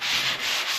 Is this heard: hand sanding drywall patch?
yes